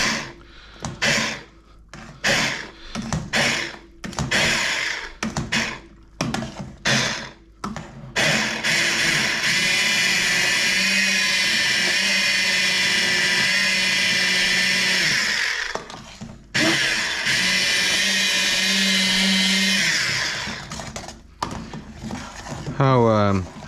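A hand blender purees mushroom soup in a pot, first in short choppy pulses, then in a long steady whirring run with a brief break, and a person talks around it.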